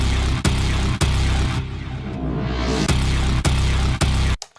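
Big, hard-hitting drums from a film theme remake, sharp heavy hits recurring about once a second over a dense, distorted wall of sound, with a brief swell in the middle before cutting off.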